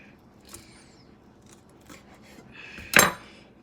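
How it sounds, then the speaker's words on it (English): Raw shrimp cut piece by piece, heard as a few faint snips and scrapes in a quiet kitchen, closing with one louder sharp cut near the end. "Now then you're gonna start cutting up piece by piece on the shrimp"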